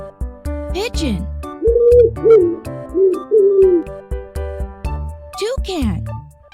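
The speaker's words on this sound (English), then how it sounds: "Pigeon." Pigeon cooing in a series of about four soft, rounded low notes at moderate volume, with voice-like swoops before and after and music underneath.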